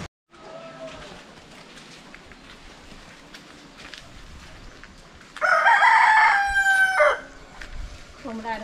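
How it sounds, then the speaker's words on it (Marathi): A rooster crows once, loud and close, in a cool green Konkan village near Ratnagiri, its call standing out over a quiet outdoor background with faint voices. "कोंबडा अडवतोय बघ."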